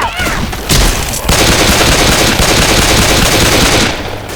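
Sustained video game machine gun fire, dense rapid bursts at close range with brief gaps between volleys, loud and relentless.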